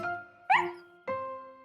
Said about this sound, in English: Just then, Snuffy started to bark.